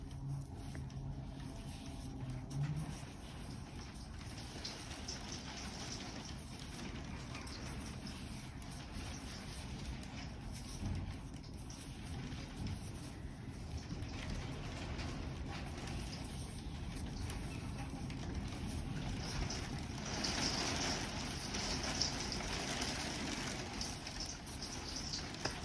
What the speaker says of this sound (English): it's just started raining here really, really hard